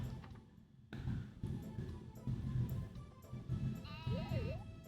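Sheep in the video game Harvest Moon 64 bleat in repeated short, soft calls over light game music, with a wavering tone near the end; no one speaks.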